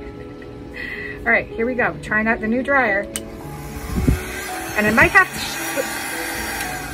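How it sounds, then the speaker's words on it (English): A steady electric whir runs throughout, rising in pitch partway through, while a person talks over it. "Trying out the new dryer."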